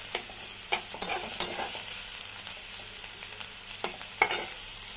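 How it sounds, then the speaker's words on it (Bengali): Chopped onions fry in hot oil with a steady sizzle, punctuated by several sharp scrapes and clacks as a spatula stirs the pan, close and fairly loud, with no talking. "পেঁয়াজটাকে একটু রং চেঞ্জ করা অবধি, হালকা বাদামি যখন হবে সেই অবধি একটু ভাজবেন।"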